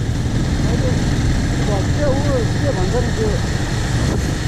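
An old motorcycle, about 14 years old with a broken top, idles with a steady engine drone while a person talks over it.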